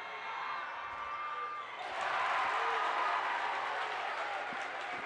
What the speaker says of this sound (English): The entire bench is up cheering for him.